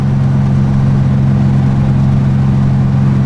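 An air-cooled 30-horsepower Volkswagen Beetle engine with a freshly replaced distributor cap and rotor runs steadily up close, a loud, even low drone with slight revving and no misfires.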